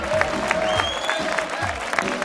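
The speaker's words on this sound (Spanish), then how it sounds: "¡Aplauso!" Studio audience at a 1980s Spanish television music show applauds loudly and continuously, dense clapping with a few cheers mixed in and a voice audible over it.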